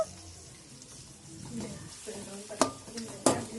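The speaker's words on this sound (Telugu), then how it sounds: "క్యాప్సికమ్ అలాగే క్యారెట్ కూడా వేసుకొని ఆయిల్లో కొద్దిగా ఫ్రై చేసుకోవాలి" Capsicum and carrot frying in a little oil for cauliflower fried rice, with a soft sizzle under clattering stirs and two sharp utensil knocks against the pan near the end.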